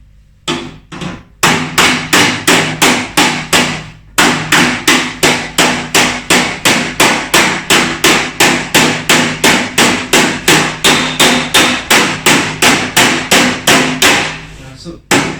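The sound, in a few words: hammer striking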